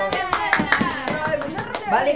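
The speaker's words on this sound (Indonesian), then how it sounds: "Tepuk tangan." Rhythmic hand clapping in a steady beat, about a dozen claps, with children's voices chanting along over it.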